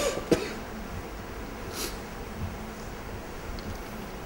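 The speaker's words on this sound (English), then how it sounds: "I'm going to start coughing here" A man with a throat infection gives a sharp cough near the start, followed by a quieter throat sound, against a low room hum.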